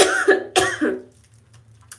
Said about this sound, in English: had a horrible cough for so long